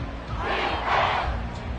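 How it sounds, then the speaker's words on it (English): A stadium crowd in the Madden football video game roars loudly and continuously during a third-and-long play, a broad sustained swell of cheering that rises toward the middle and holds without any speech. "This crowd turning up the decibel level."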